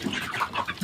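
Chickens on a poultry farm cluck and chirp softly in a continuous overlapping chorus, close by and moderately quiet, with no voices.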